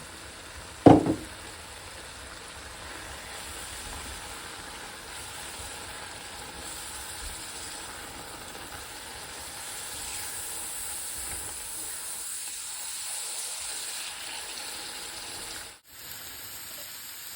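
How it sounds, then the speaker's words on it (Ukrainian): Sliced zucchini fries in sunflower oil in a pan, giving off a steady, soft hiss and sizzle that runs on unbroken, with one sharp knock near the start. "І тепер я сюди буду додавати трішки соняшникового масла, щоб наші кабачки почали потрішки підсмажуватися"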